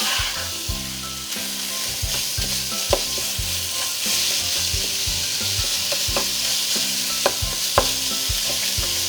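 Ground meat for lasagna sears in a hot pan with a loud, steady sizzle up close, while repeated sharp scrapes and taps of a utensil break it up at uneven intervals throughout.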